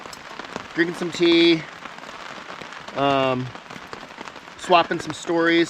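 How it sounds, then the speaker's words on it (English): Steady rain patters on a camping tarp in the mountain wilderness of the Pacific Northwest, a continuous close hiss running under relaxed conversation throughout. "enjoying our little nature rainstorm out here because it is raining pretty good"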